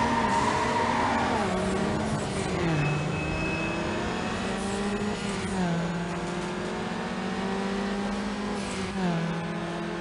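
In Need for Speed Underground, a racing car's engine revs and strains, close and loud, its pitch climbing and dropping through several gear shifts over steady road noise.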